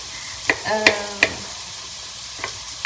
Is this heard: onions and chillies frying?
yes